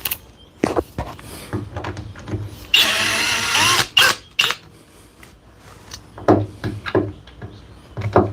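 A hammer drill in a carpentry workshop gives one short, loud whirring burst of about a second, surrounded by scattered knocks and clatter from tools being handled nearby.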